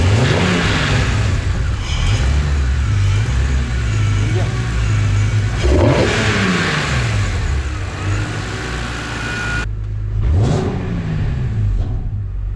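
A BMW E46 M3 with a newly installed air intake revs repeatedly, engine rising and falling in several swells over a running idle, loud and close, with people talking in the background.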